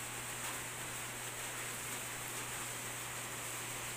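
Heavy rain driven by strong wind at night pours down in a dense, unbroken wash of noise, steady and fairly distant-sounding with no voices over it.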